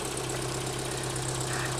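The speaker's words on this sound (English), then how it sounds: "You can hear it's got a blown muffler, it's got exhaust leaks" Rough, steady idle of a 1968 Datsun pickup engine with a blown muffler and exhaust leaks, a low rumbling drone with a knocking pulse that holds unbroken and close for the whole two seconds.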